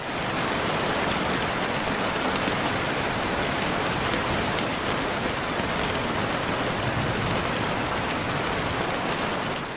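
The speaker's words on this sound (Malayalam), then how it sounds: "പൊടുന്നനെ പെയ്ത മഴയിൽ ആശ്രമ മൈതാനം വെള്ളക്കെട്ടിലായി" Sudden heavy rain pours steadily onto a waterlogged ashram ground during an arts festival, a dense, continuous hiss with no breaks.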